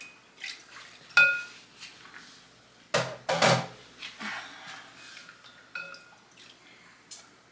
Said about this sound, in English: I just want to kind of continue to stir it to dissolve that honey